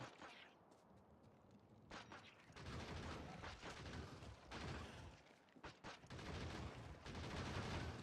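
Defensive turret gunfire in the game Factorio: dense, sustained bursts of shots that swell and fade in waves, with a few short pauses between volleys and no talk.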